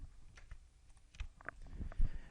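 A computer keyboard and mouse give off scattered, irregular clicks and taps, a few sharper presses standing out, close and quiet with no speech.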